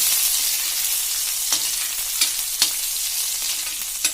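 Green chillies and garlic frying in hot oil for veg spring rolls, a steady bright hiss of sizzling with a few faint spatula taps and stirs, close up and without speech.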